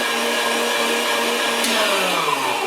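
Electric meat grinder grinding venison for breakfast and Italian sausage, a loud steady motor whine running continuously and alone, with a slight pitch shift partway through.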